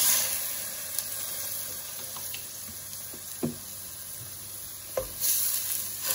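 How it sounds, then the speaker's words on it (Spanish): Pan contents sizzle steadily at a low, even level after a splash of white wine goes in, with a few faint clinks and stirring knocks scattered over about six seconds. "Un chorrito de vino blanco."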